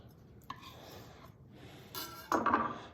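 A knife saws through rested smoked brisket across the grain, giving faint scraping strokes on a cutting board followed by a louder rubbing cut near the end, with no talk over it.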